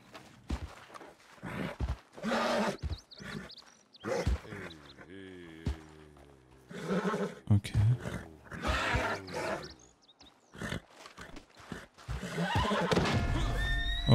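Horses whinny in Red Dead Redemption 2, including a fox pinto, with a few loud, wavering neighs standing out among clopping and other game sounds. No one speaks.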